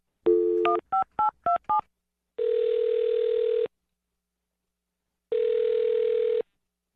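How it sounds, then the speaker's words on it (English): A telephone keypad dialing a number: a quick run of five or six clipped DTMF beeps, then two long, steady ringback tones with a silent gap between them, clear and close. "I'm going to dial this phone number right now"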